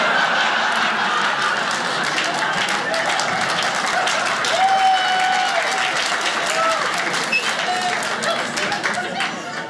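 A stand-up comedy audience breaks into sustained applause at a comedian's punchline, a dense, steady wash of clapping from a large crowd that holds for the whole stretch and tapers slightly at the end, with scattered voices mixed in.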